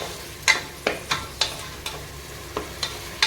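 Tomatoes with salt sauté in a pan for tomato biryani, a low steady sizzle punctuated by about eight evenly spaced scrapes of a spoon stirring, close and clear with no talk.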